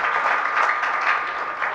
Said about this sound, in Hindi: तो आप लोग तालियों की आवाज़ इतनी आई